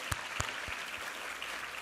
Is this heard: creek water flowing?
no